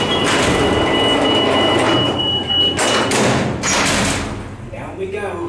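An Otis traction freight elevator in a university hall descends with a steady loud mechanical rumble and hum, a few thumps and clunks midway, and a thin whine, heard from inside the cab.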